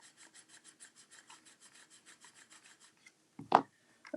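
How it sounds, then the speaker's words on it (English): A paper treat box being burnished with a bone folder, heard as a quick run of soft, even rasping rubs, then a brief louder scrape and a final rub, close up with no talking. "Take my bone folder and give that a little bit of a burnish."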